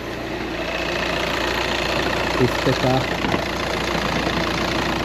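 A rusty, smoking Volkswagen Golf with a clogged DPF idles steadily at close range, a continuous engine drone with a slight rattle, while someone speaks briefly over it.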